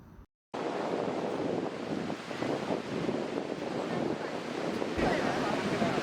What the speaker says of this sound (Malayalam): കേരളത്തിലെ ഏറ്റവും വലിയ വെള്ളച്ചാട്ടമാണ് നിങ്ങൾ ഈ കണ്ടുകൊണ്ടിരിക്കുന്നത്